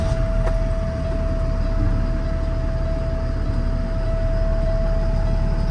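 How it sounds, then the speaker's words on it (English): A 2016 Peterbilt 330 with a PX7 diesel idles in a steady, close rumble while its brake air pressure builds, a thin constant whine held level above the engine drone for the whole stretch. "Brake air build up."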